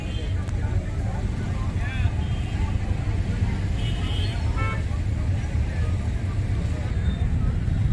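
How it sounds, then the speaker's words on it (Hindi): Heavy, congested road traffic on the way to a fish market: a dense engine rumble with scattered horn toots and people talking over the din. "इतना ट्रैफिक, इतना ट्रैफिक।"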